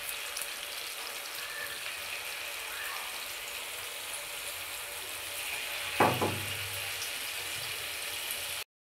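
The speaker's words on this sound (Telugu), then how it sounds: "అన్నీ ఒకటి ఇలా వేసుకొని బాగా గోల్డెన్ కలర్ వచ్చినంత వరకు ఫ్రై చేసుకోవాలి" Chana dal fritters fry in hot oil until golden, making a continuous close crackling sizzle, with a brief louder splash and bubbling burst about two thirds through, and no voices.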